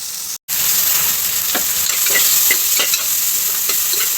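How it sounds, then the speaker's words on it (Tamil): Onions sautéing in a pan for mutton curry, with a steady loud sizzle and scattered scraping stir strokes after a brief pause at the start; no talking. "வெங்காயம் வெங்காயம் வதங்கிட்டோம்"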